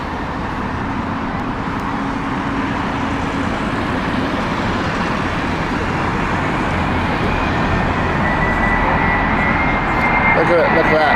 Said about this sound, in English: Here comes the 787